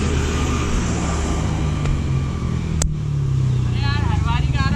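A Bajaj Pulsar N160 motorcycle passes on an empty road, its exhaust rising to a loud close roar that fades as it goes by, with a brief horn-like tone near the end.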